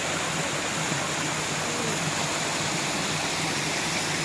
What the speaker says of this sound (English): This water is going to the water fountain there.